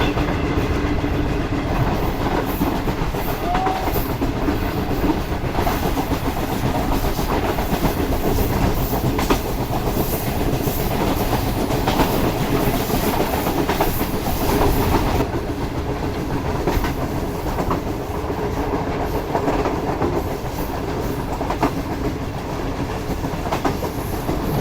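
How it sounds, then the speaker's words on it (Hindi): Train rolling along rails through the Thar Desert near Khokhropar station, a steady loud rumble with faint clickety-clack of wheels, continuous throughout with no voices. "9:45 बजे हमारी ट्रेन अप्रोच बना रही है खोखरोपार रेलवे स्टेशन पर"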